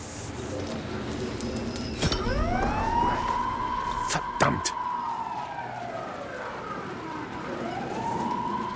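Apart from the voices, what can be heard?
siren wailing in a video game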